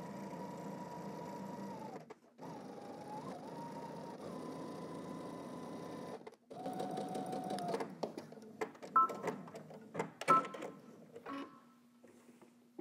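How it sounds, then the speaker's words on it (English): A sewing machine stitches an elastic casing a quarter inch from the raw edge of fabric, with two steady whirring runs broken by brief stops, then a third run mixed with clicks and handling noises, close and fairly quiet. "we're gonna go ahead and stitch again 1/4 inch away from the raw edge"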